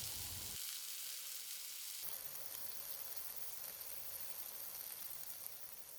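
Garlic miso pork sizzles in a pan over residual heat after the burner is switched off, a steady close frying hiss that brightens and intensifies partway through, with no voices.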